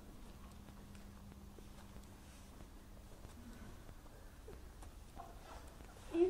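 A horse carrying a child walks along in a steady, faint clip-clop of hooves, heard at close range under quiet surroundings, with a brief voice near the end.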